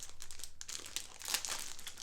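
Plastic packaging around embroidery cotton thread crinkles softly and continuously up close for a couple of seconds.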